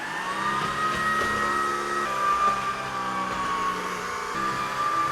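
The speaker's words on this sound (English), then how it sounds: "This is why stick vacuums are magical." A Shark stick vacuum cleans crumbs off a kitchen floor, giving a steady, fairly quiet whining hum with small shifts as it moves.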